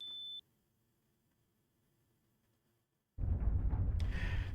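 A short high electronic beep from a keypad code entry in the video game Resident Evil Remake, a single steady tone lasting under half a second, followed by near silence and then a loud burst of game sound.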